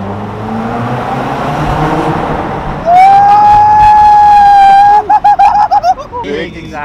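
A car with a big exhaust rumbles and revs nearby under crowd chatter, then a sustained high whine rises and holds before breaking into choppy bursts.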